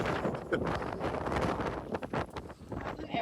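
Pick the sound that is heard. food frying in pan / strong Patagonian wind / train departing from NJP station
strong Patagonian wind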